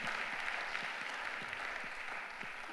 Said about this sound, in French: Vous pouvez l'applaudir, on peut l'applaudir.